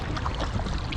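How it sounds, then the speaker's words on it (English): Packraft paddling on Lake Zurich: a brief, close burst of water sloshing and trickling around the hull, dense and steady with no voices. "Nighttime paddling Lake Zurich."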